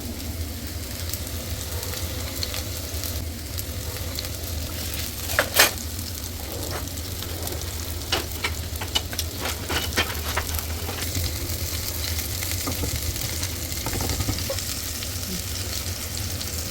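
Amritsari fish shallow-frying in a pan: a steady, close sizzle runs throughout, with scattered scraping clicks as a wooden spoon turns the pieces.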